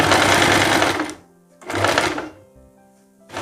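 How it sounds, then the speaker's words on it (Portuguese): A sewing machine running a thin line of stitching along a sleeve hem of a princess-sleeve romper, in two close, loud bursts of rapid buzzing, each about a second long, separated by a quiet pause. "agora eu vou passar uma costura bem fininha"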